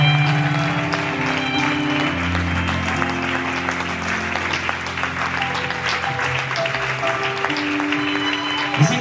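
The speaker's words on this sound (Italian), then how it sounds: "Prego, un applauso tutti assieme all together for Giuseppe and Dasha" A large crowd claps loudly and continuously, with music playing beneath the applause throughout.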